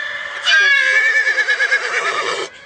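A horse neighs loudly and close by in one sustained whinny of about two seconds, with a wavering, trembling middle and a clear start and stop.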